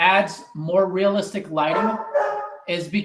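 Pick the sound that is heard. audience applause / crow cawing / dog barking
dog barking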